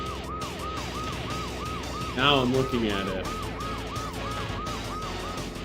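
Police siren from a cop car in the video game Blast Corps wails in a steady, repeating up-and-down cycle, with a brief louder burst of honking and game noise partway through and a voice talking faintly over it.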